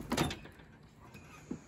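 The door of a trailer behind a 1995 Kenworth W900 truck is worked open with a short scraping, sliding rattle at the start. A fainter metallic knock follows after a pause.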